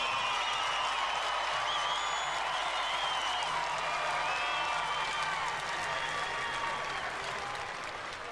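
A crowd applauds both teams at a high school state championship game between Wheelersburg and Eastwood, sustained clapping mixed with faint cheering that fills the whole stretch at moderate distance.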